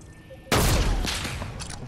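A sniper rifle shot in a video game cracks out loud and sudden, then rolls into a booming tail that fades slowly, with faint chatter underneath.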